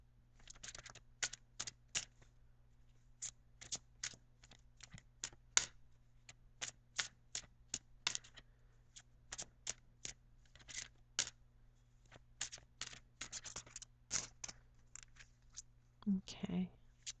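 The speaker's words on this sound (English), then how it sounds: "I'm also going to pull out our Angel Oracle card" Angel Oracle cards handled during a tarot and oracle reading: a quiet room with a long run of sharp, dry card clicks and snaps at uneven intervals, close and fairly soft, with a brief rustle near the end.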